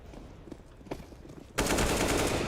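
Gunfire in the game CS:GO: a few scattered single shots and footsteps, then a sudden loud burst of rapid, continuous firing that runs to the end.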